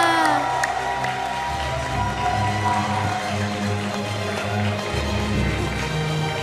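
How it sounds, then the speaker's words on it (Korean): At a Sudden Attack esports championship award ceremony, a crowd loudly cheers and applauds the winning women's team. Whoops and clapping ring out over a droning musical backing. "큰 박수로 축하해 주시길 바라겠습니다"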